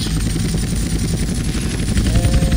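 A helicopter in GTA San Andreas flying steadily, its rotor chopping in a fast, even pulse with a high engine whine over it, loud and close, with no voices.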